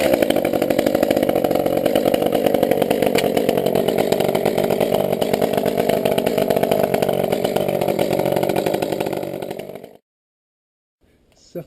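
A chainsaw roars at steady throttle for about ten seconds, loud and close, then cuts out abruptly, leaving near silence and a small knock at the very end.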